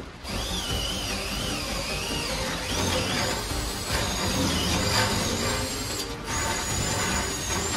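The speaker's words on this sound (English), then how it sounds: "These rear bushings are so bad, I'm gonna have to drill them out." A power drill bores out badly worn rear bushings on a truck, giving a loud, sustained high whine that wavers in pitch for about eight seconds, with brief dips in intensity.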